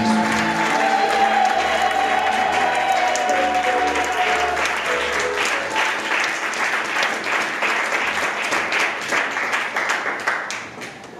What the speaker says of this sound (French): Est-ce qu'on peut acclamer très fort le nom de Jésus?